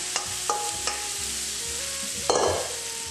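Tofu eggs heating in grease in a frying pan give a continuous close sizzle, with a few light taps and a louder scrape of stirring near the end.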